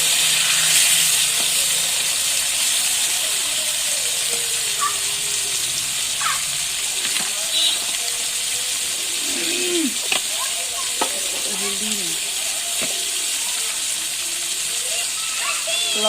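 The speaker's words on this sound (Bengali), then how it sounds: "তেল গরম হয়েছে, তো চানমুনি এখন আমটা ছেড়ে দিচ্ছে।" Raw mango pieces hit very hot oil in a pan for a homemade mango pickle, giving a steady close sizzle and hiss with scattered stirring clatter, while people talk nearby.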